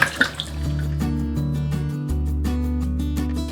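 An item being washed by hand under running tap water, with a steady flowing stream and splashing that shifts as the object is moved and rubbed beneath it.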